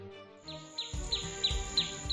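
Birds chirp in the early morning, a series of short, bright, repeated calls spaced roughly evenly over a soft background, fairly close and clear with no voices.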